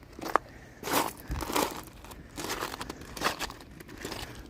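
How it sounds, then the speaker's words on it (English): Footsteps crunch over beach pebbles on a coastal walk, a few close, loud, irregular crunches with quieter shuffling in between and no talking. "Love the sound of the crunching pebbles."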